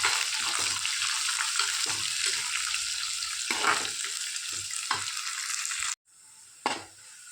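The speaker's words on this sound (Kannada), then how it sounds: "ಇದಕ್ಕೆ ಈಗ ನೀರುಳ್ಳಿ ಹಾಕುವ. ನೀರುಳ್ಳಿ ಸ್ವಲ್ಪ ಕೆಂಪಾಗಬೇಕು." Onions fry in a hot pan with a loud, continuous close sizzle broken by scraping stirs, then the sizzle drops away sharply near the end.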